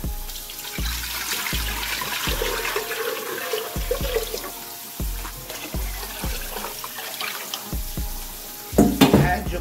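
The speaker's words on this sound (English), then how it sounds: "Get yourself some water." Water runs from a kitchen tap into a soup pot for homemade chicken vegetable soup, a steady rushing stream broken by a few sharp knocks and clunks, with a louder splash near the end.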